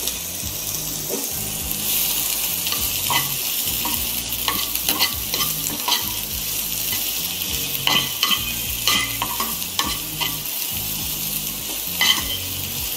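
Finely chopped onion and chilli fry in hot oil, giving a loud, continuous sizzle with frequent scraping stirs and clatter from the pan throughout.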